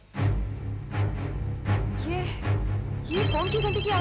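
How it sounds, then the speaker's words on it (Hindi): A telephone bell rings repeatedly in a steady pattern of short bursts, seemingly coming from underground near a fountain, while people talk in a tense, hushed way over it. "ये फोन की घंटी की आवाज कहां से आ रही है?"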